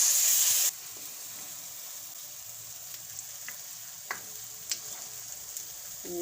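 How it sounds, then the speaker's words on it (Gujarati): Sliced onions fry in a pan over a lowered gas flame, browning slowly, giving a soft continuous sizzle with a few faint crackles and pops, with no one speaking. "ડુંગળીને આપણે લાલ જેવી થોડીક ખાવા દઈશું"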